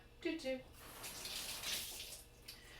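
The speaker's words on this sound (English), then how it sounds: "I'm just going to rinse" Rinsing under a running kitchen tap while making hollandaise, a steady close rush of water lasting a few seconds, with a brief voice at the start.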